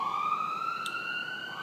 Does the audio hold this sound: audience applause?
no